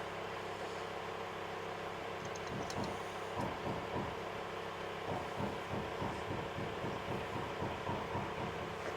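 An overheating car engine with a suspected worn-out fault runs steadily, giving a continuous low droning hum with layered tones and faint irregular knocks and clatters throughout, fairly close and alone.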